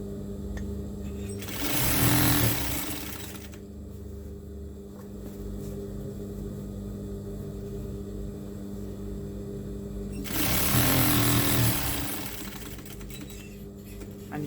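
A sewing machine stitches a pleated tablecloth in two loud bursts of steady whirring, one near the start and one toward the end, separated by a lower constant hum while the machine idles between runs.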